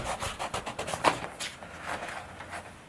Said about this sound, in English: we'll just continue sanding on the edges and try to blend into the